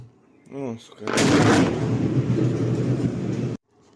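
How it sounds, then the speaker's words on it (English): A distant explosion in Donetsk arrives as a sudden broad rumbling boom that rolls on for a few seconds before cutting off, preceded by a brief voice. "So that was the explosion way the fuck over there."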